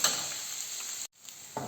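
Ground beef and onion sizzling in a pan, a loud, bright continuous frying hiss close up, broken by a brief silent gap before it returns with a stirring scrape.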